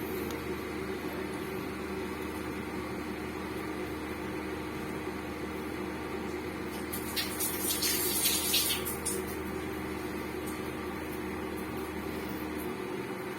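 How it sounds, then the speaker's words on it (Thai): A pot of water coming to a boil for instant tom yum noodles gives a steady, close rushing hiss and bubbling that holds for over thirteen seconds, briefly swelling brighter midway, with no talking. "เอาละน้ำจะเดือดแล้ว"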